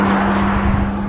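A 2027 BMW M2 M xDrive with four-wheel drive and a 480 hp engine pulls hard under acceleration, its steady, loud engine drone holding a strong even tone throughout with no voices.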